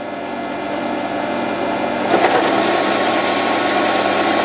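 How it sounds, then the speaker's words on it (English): A mini lathe's stepper motor drives the carriage feed with the half nut engaged, making a steady close mechanical hum and whine that thickens slightly partway through, with no talk. "all I have to do is start up my stepper motor with this switch here and then engage my half nut."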